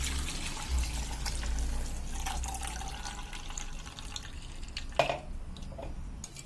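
Blended mint lime juice runs through a strainer, with soft trickling and dripping liquid at close range, some faint handling clatter, and one sharper knock toward the end.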